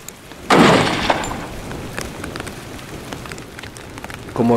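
A single rifle shot at a wild boar during a hunt in heavy rain strikes the rock in front of the animal, a sharp, loud crack that fades into steady rain hiss, followed by a brief voice at the end.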